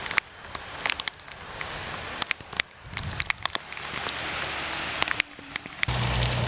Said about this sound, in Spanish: Se ha puesto a llover, pero a lo salvaje.